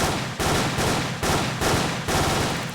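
Guns in the video game ANEURISM IV fire in four loud, close bursts of rapid shots, each burst blasting for about half a second before a brief gap, with no voices.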